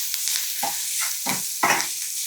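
Cumin, hing, curry leaves and thecha sizzling in hot oil for tempering, a steady bright hiss broken by three or four short stirring scrapes, close and fairly quiet, no voices.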